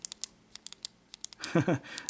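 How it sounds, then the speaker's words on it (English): A Samsung Galaxy Note 5 S Pen clicks repeatedly, crisp and close, in quick irregular pairs and triples, followed by a short burst of speech. "it feels like a very real clicking from a real pen"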